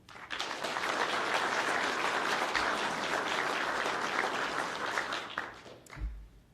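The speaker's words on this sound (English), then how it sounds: "If we can get a round of applause for them as well." Sustained audience applause at a law enforcement academy graduation ceremony, steady dense clapping from a large crowd that swells, holds, then tapers off near the end.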